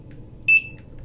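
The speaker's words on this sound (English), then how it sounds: "I'll scan the barcode on my W-2 here, and you'll hear a beep" A barcode scanner gives a single short, clear electronic beep as it reads the barcode on a W-2 tax form, heard alone over a low background hum.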